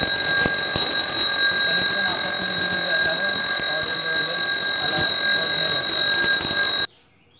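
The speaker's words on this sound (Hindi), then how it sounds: "जैसे ही हम बाहर की सीढ़ी दूसरे सीढ़ी पर दबाते हैं और कनेक्शन जुड़ जाता है वैसे ही ये डोरबेल बजने लगती है।" An electric doorbell wired to a switch on an outdoor stair rings loudly and continuously as a shrill, steady electronic tone for about seven seconds, then cuts off abruptly.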